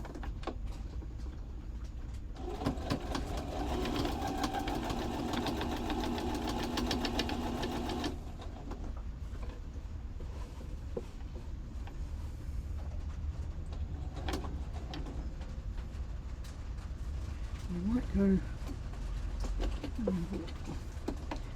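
Sewing machine stitching down the selvage edge of fabric for a journal cover, a steady dense mechanical whir running for several seconds near the start, then stopping, with quieter handling noises and a few soft knocks afterward.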